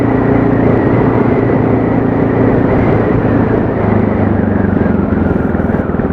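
A motorcycle engine runs loud and close on a chilly road, its steady droning roar holding for the whole stretch without any break.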